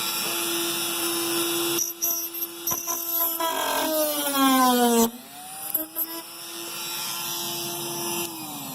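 A power tool with a saw attachment cuts into the wheel arch of a 2005 Mazda RX-8 GT, giving a close, loud, high-pitched whine whose pitch sags and recovers as the blade loads, with short pauses between passes.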